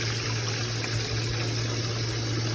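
Boiled tea water poured into a container in a home kitchen, a steady continuous liquid rush with a constant low hum underneath, close and moderately loud, with no talking.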